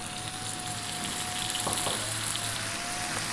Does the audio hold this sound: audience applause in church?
no